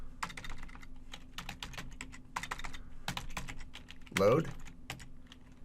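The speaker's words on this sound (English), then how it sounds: "We're going to type modules," Rapid clacking of a computer keyboard as commands are entered at a terminal, bursts of keystrokes with short pauses and one heavier key press near the end, under a brief spoken word.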